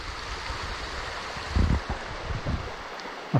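A mountain creek on Springbrook Mountain flows steadily with a broad rushing wash, mixed with wind and a few low bumps, fairly close and without any talking.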